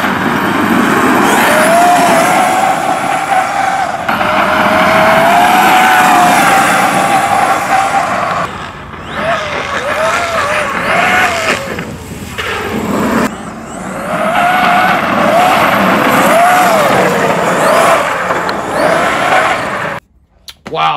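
A custom-built Traxxas XRT RC truck drives with a high, whining electric motor that surges and fades in repeated bursts, fairly close, with brief lulls between runs and a sudden stop near the end.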